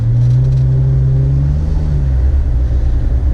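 A Jeep engine revs and eases off while driving, heard from inside as a loud, steady low drone whose pitch rises and settles slightly over a few seconds, with no talking.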